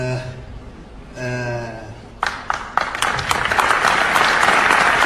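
A crowd breaks into loud, dense applause after someone speaks briefly, starting with a few scattered claps and swelling into steady clapping until the end.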